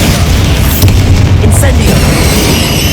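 Loud, booming explosions from Confringo and Bombarda spells in Hogwarts Legacy, a dense, continuous roar of blasts filling the whole moment.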